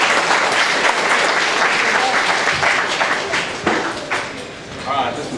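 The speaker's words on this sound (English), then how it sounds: "Y'all give Joel Sellers a big round of applause." Audience applause fills the room after a mandolin set at a bluegrass show, a steady dense wash of clapping that thins and tapers slightly toward the end.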